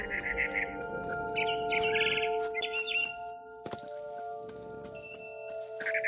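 Barn swallow in the video game What Remains of Edith Finch, chirping in quick twittering bursts over a steady sustained musical drone, with scattered clinks between calls.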